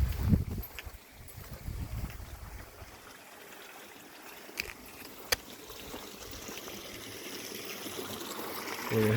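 A clear, deep stream beside rice fields in a rural area with banana trees in Tagkawayan, Quezon, runs steadily, a soft continuous rush and trickle of water with a few faint knocks and low rumbling bumps.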